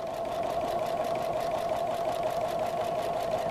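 Regular sewing machine stitching slowly around an appliqued fabric circle, a steady close mechanical whir with a fast even needle rhythm throughout.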